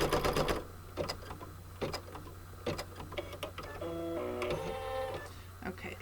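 An embroidery machine stitches an in-the-hoop appliqué flower coaster, its rapid needle clatter running steadily up close, with a louder burst at the start and a stretch of faster, pitched motor whirring partway through, all without talk.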